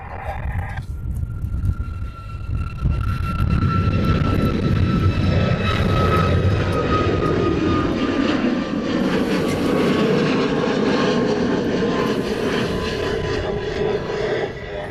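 A Southwest jet airliner roars overhead in Hawaii, its engine whine rising and sweeping in pitch as it passes, loud and steady throughout.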